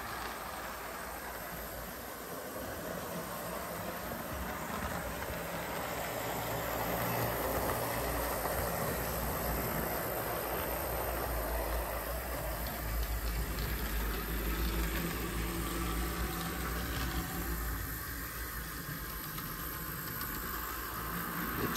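A model train circles its track with a steady, continuous rolling hum and rattle of wheels and motor, close and even throughout, with no talking.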